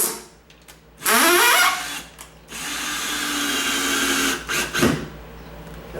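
A power drill drives screws into a door hinge while fixing a sagging door. It whirs in two close bursts, a short one and then a longer steady run, with faint handling noises between.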